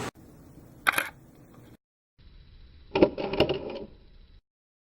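Camera shutter clicks and mechanical whirring, sharp isolated bursts separated by near silence, the last one a longer clattering series with a faint steady whine.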